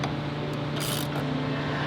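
Ratchet clicking as a nut is tightened onto a bracket while a 2022 Toyota Tundra fuse block holder is installed, short close mechanical clicks over a steady low hum.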